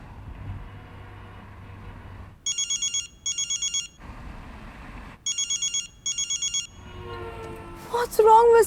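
An electronic phone ringing tone sounds in two pairs of rapid warbling bursts, separated by pauses, over a steady low background rumble.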